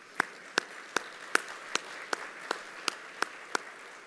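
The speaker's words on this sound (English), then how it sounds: "How about a round of applause for them as well?" Sparse, evenly spaced claps at a business chamber event after a call to applaud the sponsors, about ten sharp hand claps over roughly four seconds, fairly faint and distant, with no talking.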